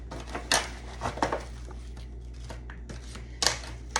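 Candied yams stirred in a pan, a spoon scraping and clinking against the pan in scattered knocks and brief sliding scrapes over a low hum, with quiet gaps between strokes.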